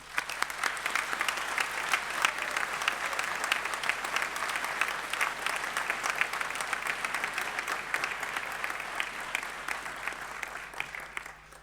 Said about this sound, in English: a round of applause for the families and friends